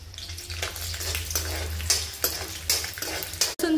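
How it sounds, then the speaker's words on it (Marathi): Chopped garlic sizzling in a spoonful of hot oil for tomato soup, a steady crackling fry with rhythmic stirring scrapes of a spoon against the pan, close and continuous. "मग आपण लसूण टाकतोय, व्यवस्थित परतून घ्यायचा लसूण"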